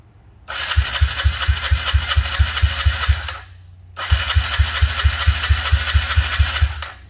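A Yamaha TTR50 mini motorbike's starter cranks its small engine in a fast, even chugging rhythm for about three seconds, stops briefly, then cranks again with the same loud, close churning pulse.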